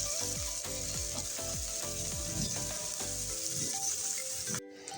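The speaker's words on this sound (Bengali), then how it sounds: "পেঁয়াজগুলো একটু ফুটেই দিচ্ছি।" Chopped onions and green chillies fry in hot oil with a loud, steady sizzle and the scrape of stirring, until the frying cuts off abruptly near the end.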